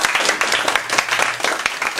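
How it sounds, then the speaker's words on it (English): An audience gives a round of applause at a local community event, dense, crackling clapping from many hands that stays loud and even for a couple of seconds, with a faint hum beneath. "So a round of applause there."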